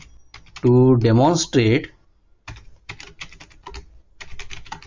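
Computer keyboard keys tapped while writing a comment line in a MATLAB script, a burst of clicks at the start, then brief pauses and short clicking runs under a man's speech.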